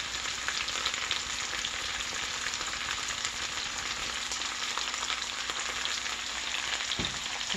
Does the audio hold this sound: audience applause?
no